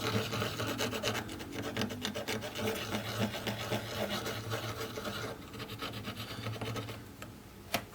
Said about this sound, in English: And basically clean off the residue.